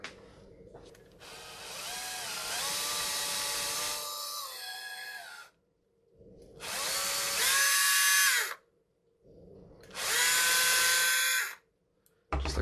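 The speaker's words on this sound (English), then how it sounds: "So we're gonna have to get ourselves a power drill." A power drill whirs in three bursts, the first long with pitch dips as it bites in, then two shorter runs separated by silence.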